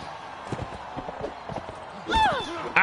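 A horse in the video game Mount and Blade clops along with quick hoofbeats under faint talk, then gives a loud whinny near the end.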